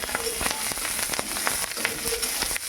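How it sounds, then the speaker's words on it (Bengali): Green chillies fry in hot oil with a steady bright sizzle and scattered sharp crackles and pops, close up and continuous. "এবার তেলের উপরে কিছু কাঁচা লঙ্কা দিয়ে দেবো।"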